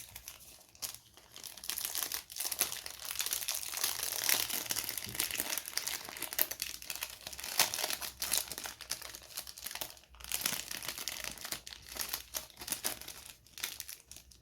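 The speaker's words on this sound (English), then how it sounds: "now fold down the top of the piping bag" Plastic piping bag for Popin' Cookin' tamoshi cakes being folded down at the top: continuous close crinkling and rustling of thin plastic with brief pauses, no talk.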